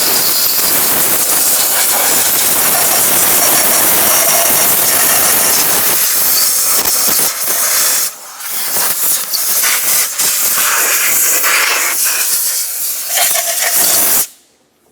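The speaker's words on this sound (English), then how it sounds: "Let's use some compressed air and clean the area one more time" Compressed air hisses loudly and continuously while cleaning around the 2.4L engine of a 2009-2010 Pontiac Vibe, with several short breaks and bursts in the second half before it cuts off near the end.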